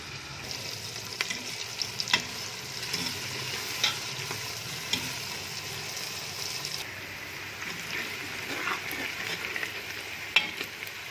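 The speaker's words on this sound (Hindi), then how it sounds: "1 कप घी लेके तो उसमें हम डालेंगे ये प्याज" Onions fry in a cup of ghee in a pan, a steady close sizzle with occasional light stirring clicks and no talk.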